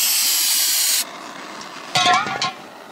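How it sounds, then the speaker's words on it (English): Carb cleaner sprayed from an aerosol can in a loud steady hiss for about a second, followed by brief clinking and rattling mechanical handling sounds. "A little carb cleaner."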